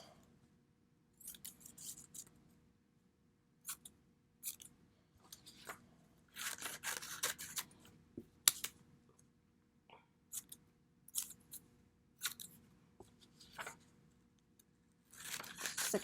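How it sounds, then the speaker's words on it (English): Scissors snip through strips of old book pages in short, close bursts of crisp cuts with quiet gaps between them. "Cutting a strip. This time I'm going about 4 rows of text, and then I'm kind of cutting it into 4."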